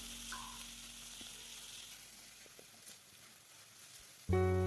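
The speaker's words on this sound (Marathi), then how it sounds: "ही ग्रेव्ही आपल्याला जवळपास जवळपास चार ते पाच मिनिट छान अशी परतून घ्यायची आहे" Okra curry gravy fries in oil in a kadhai with a soft, steady sizzle and faint stirring, ending in a sudden loud tonal sound.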